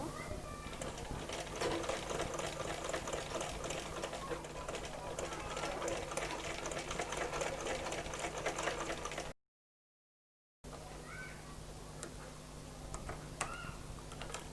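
Sewing machine stitching baby frock fabric around the edge, a steady rattling hum with rapid ticking needle strokes, cut off by a short silent gap before resuming.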